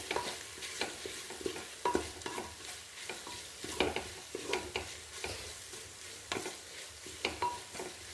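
Onions and curry leaves sauté in a pan for a Kerala-style beef curry, a steady sizzle broken by repeated scraping stirs of a utensil against the pan, close and continuous with no talking.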